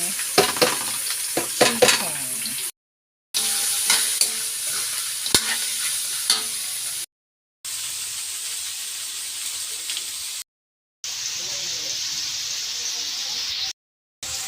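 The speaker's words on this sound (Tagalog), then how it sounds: "Igisa natin ang bawang, buyas, sahog na natin yung sahog ng chicken." Garlic, onion and chicken sauté in a pan for pancit canton, with repeated stirring scrapes over a continuous close sizzle, broken by several short silent gaps.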